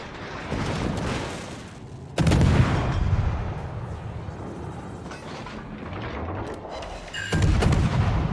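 Heavy tank cannon blasts boom out in a World of Tanks-style battle with the T8 Kiev, two loud shots spaced several seconds apart over rumbling game ambience.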